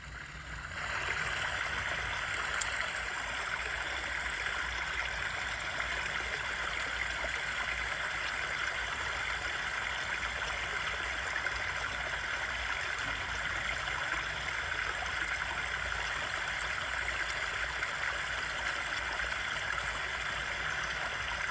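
Steady broadband rush of flowing stream water, continuous and fairly close, with no speech.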